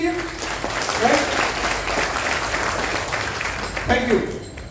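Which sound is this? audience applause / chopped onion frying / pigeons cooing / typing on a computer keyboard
audience applause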